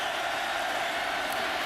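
A large stadium crowd roars loudly and steadily at an Oklahoma Sooners college football game, a sustained wash of distant voices with no breaks.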